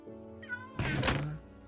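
A house cat gives a short, close meow, and a loud thunk follows, with faint game sounds behind it.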